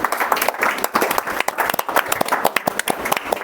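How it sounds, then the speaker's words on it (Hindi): A congregation in a prayer hall claps together with loud, brisk, fairly rhythmic hand claps close by, a dense run of sharp slaps continuing throughout with no talk. "दीदी ताली बजाइए, आप सब ताली बजाइए।"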